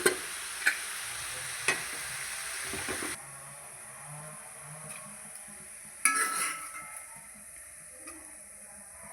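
Tomatoes dropped into softened onions frying in a pan for a Kerala-style dal and tomato curry, with a spoon scraping and stirring, a light steady sizzle, and a few sharp clinks against the pan.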